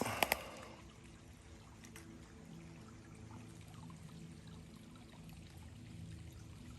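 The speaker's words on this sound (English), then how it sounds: "And that is a running stream right there." A small stream trickling and gurgling steadily nearby, soft and continuous, after a couple of brief knocks at the start.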